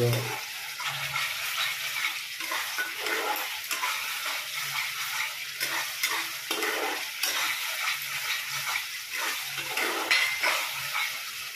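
Masala sizzles and fries in hot oil while being stirred in a pan for fish curry, with a steady frying hiss and repeated scraping strokes of the utensil, close and continuous.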